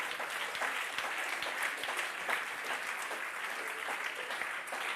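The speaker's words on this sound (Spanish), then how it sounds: "Hay aplausos para el que vive." Sustained applause from a church congregation during a sermon, a steady wash of many hands clapping at moderate distance, with no speech over it.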